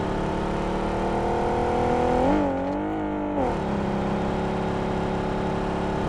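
A car engine in the game PUBG Mobile drones steadily and close, its pitch swelling briefly in the middle before settling back to an even hum.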